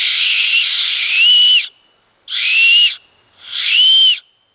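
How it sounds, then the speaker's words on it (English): Three loud, shrill whistle blasts blown through an acorn cap in a row, each lasting about a second with short gaps, breathy and piercing. "And it makes a pretty loud whistle."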